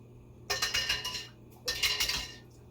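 A little spoon clinks against dishes in two short bursts of bright, rapid metallic ticks while alfajores-style alcapurria dough is prepared in a kitchen, close and moderately loud over a low steady hum.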